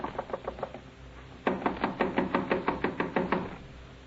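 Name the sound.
knocking on a rooming house door in a radio drama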